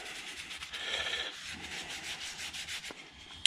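A cloth rubs a wax coating into a wooden hand saw handle with steady, soft, close scrubbing strokes in a quiet room, ending in a small tap.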